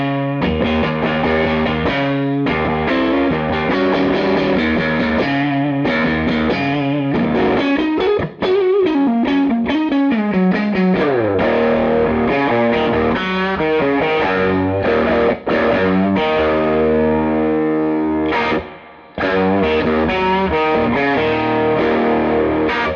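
An electric guitar is played loud and close through a Supro Black Magick Reverb TB amp with distorted tone and reverb, strummed chords and sustained notes ringing continuously with a few brief pauses.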